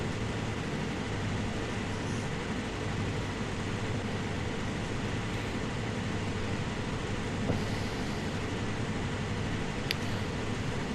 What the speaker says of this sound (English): Oh, it's a tank train, look, just going round the corner.